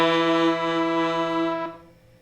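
Farfisa Super Syntaccordion synthesizer voice sounding as air moves through the bellows: one sustained, buzzy, harmonically rich tone that holds steady, then fades out near the end.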